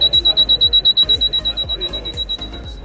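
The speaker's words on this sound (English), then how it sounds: "the person being detected is warned by an external alarm" An RFID detection system's external alarm beeps rapidly and loudly in a steady pulsing pattern, a shrill repeated tone throughout.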